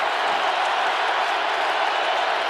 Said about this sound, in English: Crowd is loud